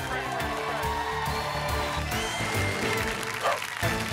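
A crowd cheers and applauds at a dog competition on a game show, heard as steady clapping under a commentator's excited talk and background music.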